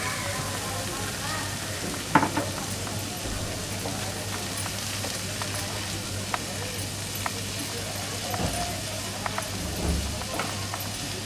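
Dried prawns (sukhi karandi) sautéing in a pan, a faint, soft frying sizzle with occasional stirring clinks and scrapes, and a person speaking over it at times.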